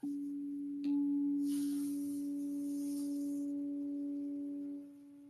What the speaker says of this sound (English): The next one is 285 hertz.